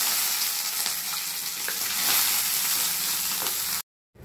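Peanuts, curry leaves, green chillies and dried red chillies fry in hot oil in a pan for gooseberry rice. The sizzle is steady and close, with crackles and pops throughout, then stops abruptly near the end.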